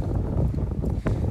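Strong wind gusts buffet the microphone outdoors at a horse riding arena, a dense low rumbling roar that fills the short moment without a break.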